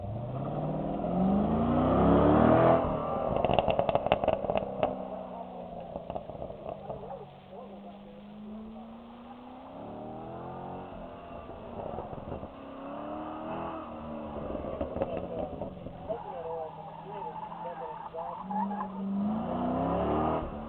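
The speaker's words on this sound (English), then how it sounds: "staying in first gear the whole time. You gotta drive that way. You speed it up a little bit come on." A Corvette accelerates hard in first gear, its engine revving with rising and falling pitch and tire squeal. The sound stays close and loud, with people talking over it.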